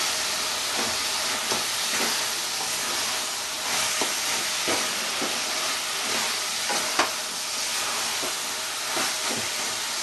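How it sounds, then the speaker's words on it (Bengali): Sour berry (kul) pickle cooking in a pan, a steady loud sizzle and hiss with occasional soft knocks and scrapes of stirring, and no voices. "এটা আমি অনেকক্ষণ ধরে, যতক্ষণ না জলটা হয়ে যাবে, শুকিয়ে যাবে, ততক্ষণ আমি নাড়তে থাকবো।"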